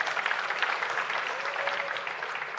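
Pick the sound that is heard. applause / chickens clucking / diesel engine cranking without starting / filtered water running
applause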